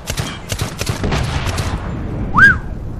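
Rapid bursts of video game gunfire in Medal of Honor Limited Edition, a fast volley of shots over the first two seconds followed by a whistling, rising tone, loud and close.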